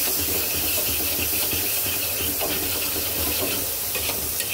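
Potatoes sprinkled with salt are stirred in a hot pan for a hilsa and eggplant curry, a loud, unbroken hissing sizzle with faint scraping strokes mixed in.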